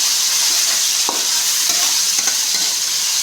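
Vegetables for vegetable rice being stir-fried in a pan, a steady bright sizzle running throughout with a few soft scrapes of stirring, close and fairly loud with no voices.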